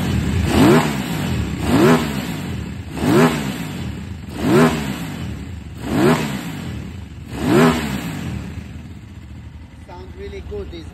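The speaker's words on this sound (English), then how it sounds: "Now we're gonna rev the motor and we check if no leaks and how it runs." A KTM 950 motorcycle engine revs six times in a steady rhythm, each throttle blip rising and falling back to a close, loud idle before settling at the end.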